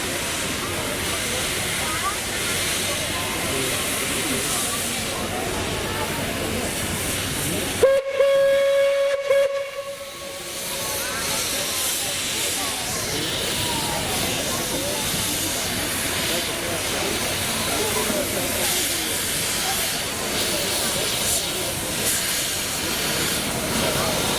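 Steam locomotive 556036 lets out a short, loud, steady whistle partway through. Before and after it, a broad roar of venting steam and railway noise carries on.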